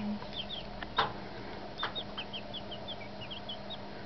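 Young chicks and chickens cheep and cluck softly in a repeated string of short high peeps over a low steady background hum, with a couple of brief thumps, fairly quiet and close.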